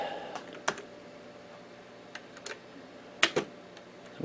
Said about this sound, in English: We'll see if we can do this with the keyboard.